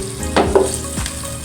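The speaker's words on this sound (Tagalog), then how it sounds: "lutuin lang po natin sa paggisa ang ating corned beef na sahog" Corned beef sautéing in a pan for Filipino-style spaghetti, a loud steady close sizzle with a few stirring scrapes over it, no talking.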